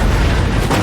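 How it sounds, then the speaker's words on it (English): A loud, dense explosion from a Terminator movie fills the moment, a brief roaring blast with no pause or quiet around it. "she takes 3 explosions in the goddamn face"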